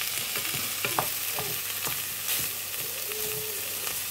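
Chicken pieces fry in a hot pan, a steady close sizzle broken by scattered clicks and scrapes of stirring, with no talking.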